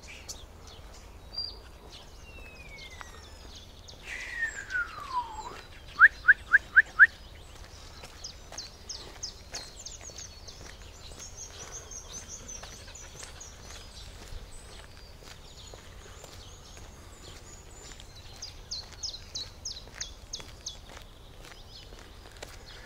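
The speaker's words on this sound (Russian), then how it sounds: "Это пока скворцы." Starlings sing in a spring forest, giving a gliding whistle followed by short rattling trills and scattered chirps, moderately distant over a soft outdoor background.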